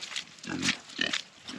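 Pigs on a homestead grunt in several short low bursts at feeding time, close by and fairly loud, with no talking over them.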